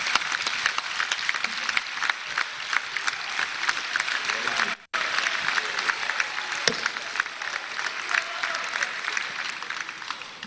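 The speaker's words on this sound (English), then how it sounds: "let me invite all of us in the National Assembly to applaud the remarks of the Right Honorable Speaker, Tajuddin Abbas" Sustained applause fills the National Assembly chamber in Abuja during a 2025 budget presentation, a steady dense wash of clapping from a large crowd that breaks off for an instant midway, then resumes just as strongly.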